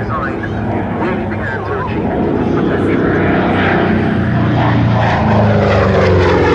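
A P-47D propeller fighter flies at an air show at Duxford, its engine a loud, continuous droning roar that swells slightly as it passes, with a commentator speaking over it.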